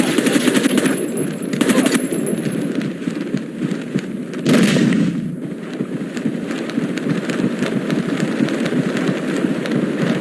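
Rapid gunfire from the video game Rainbow Six 3, with dense bursts of automatic shots rattling continuously, loud and close, broken by a few sharper louder reports.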